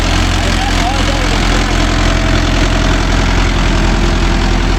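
A Mahindra Yuvo Tech Plus 585 4WD shuttle tractor working a five-point cultivator in loose soil gives a loud, steady, low engine drone with an even rumble that runs unbroken throughout.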